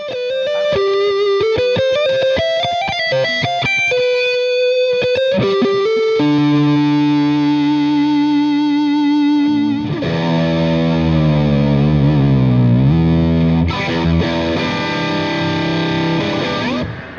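Distorted electric guitar, a PRS NF3 SE with single coil pickups into a Mesa Boogie Mark IV, plays a quick melodic run, then sustained heavy chords ring out with a gritty, buzzy tone, loud and continuous.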